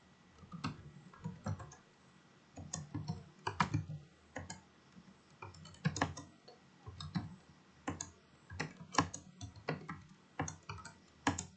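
Typing on a computer keyboard, heard close and alone as irregular bursts of sharp key clicks with short pauses between runs of keystrokes.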